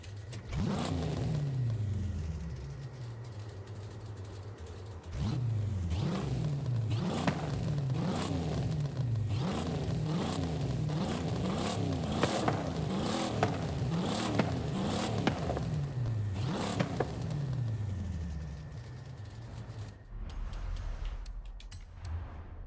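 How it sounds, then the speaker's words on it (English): Tuned car in Forza Horizon 5 revving hard in rhythmic on-off bursts, engine pitch repeatedly climbing and dropping with a choppy idle, loud and close, then cutting out near the end. "Listen to that motor chop."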